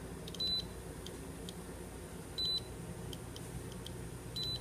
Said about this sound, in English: it'll still sit there and beep and alert you of a hazardous condition or whatever